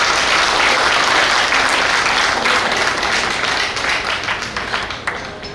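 An audience at a recital of Ram Charan verses claps steadily, a thick wash of applause that stays strong and then thins and tapers toward the end with a few scattered claps.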